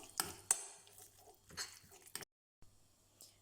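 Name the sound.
stirring sauce with a spoon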